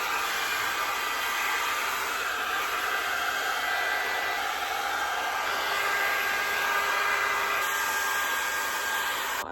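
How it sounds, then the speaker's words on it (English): A hair dryer blows continuously while hair is sectioned and blow-dried for a bouncy style, a loud, close, steady rushing roar that holds without a break for nearly ten seconds. "Then I'm just going to section my hair and get into the blow dry."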